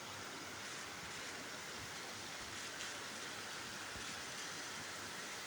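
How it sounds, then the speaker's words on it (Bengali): Heavy rain pours steadily over a Dhaka city street, a constant, even wash of noise that stays soft and distant throughout with no pauses. "কি বৃষ্টি, আর বৃষ্টিটা আরো বাড়ছে।"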